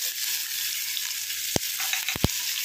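Whole spices and green chilies frying in hot oil in a pan: cardamom, cinnamon, cloves and black cumin. A continuous close sizzle runs throughout, broken by a few sharp knocks of a utensil.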